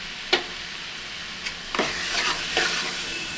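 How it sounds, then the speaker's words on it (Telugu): Onions and vegetables cook in a covered pan for a veg biryani while a spoon stirs them, giving a few scraping strokes over a steady soft sizzle. The stirring is close and fairly quiet, with no talking. "మధ్య మధ్యలో ఇలా కలుపుతూ ఉండండి, అడుగంటుకుపోతుంది"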